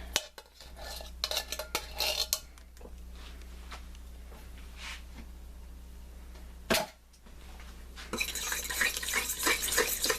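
Pumpkin is mixed with egg and spice mixture for pie filling, giving scraping and clinking stirring strokes in a bowl, fairly faint and close, with a louder clatter near the end.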